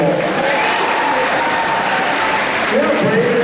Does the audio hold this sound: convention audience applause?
yes